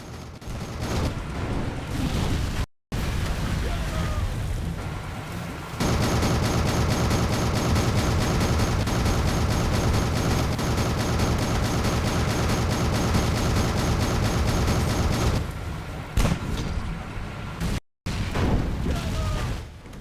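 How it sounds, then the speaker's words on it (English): Cannon fire at a ship in the Captain Blood video game, a long loud barrage of booming shots and dense rumbling battle noise, close and continuous with a few brief dropouts. "So I'm just gonna keep shooting it and see what happens."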